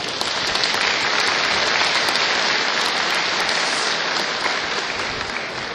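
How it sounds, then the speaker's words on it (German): Warm, steady applause from the audience at a German war graves commemoration ceremony, a dense rain-like patter of many hands clapping, loud and unbroken, easing slightly toward the end. "Und ich glaube, das sollte auch noch mal ein kleiner Applaus dafür sein."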